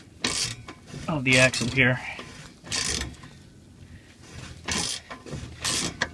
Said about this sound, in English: As you can see, it is pressing the bushing slowly but surely out